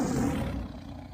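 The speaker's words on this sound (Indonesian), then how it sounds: "benar-benar suara macan yang berada tepat di bawah batu tempat mereka" A black panther's roar as a dramatized story sound effect: one deep, rough growling roar, loud and close, fading out over about a second.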